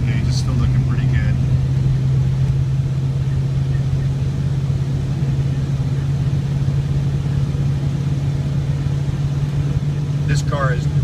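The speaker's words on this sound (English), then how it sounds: "This is gonna put the heavy stress on the motor" A 1985 Ford Mustang engine drones steadily under heavy load driving uphill, a constant low hum with road noise throughout.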